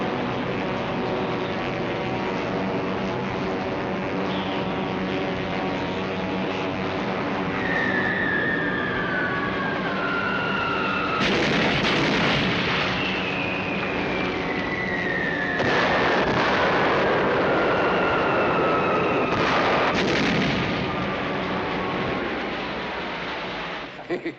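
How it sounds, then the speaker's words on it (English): A wartime movie bombing run sounds out as explosions and heavy rumbling blasts over several seconds, with descending whistles of falling bombs between the loud bursts under a dense, continuous roar. "requesting permission to commence bombing"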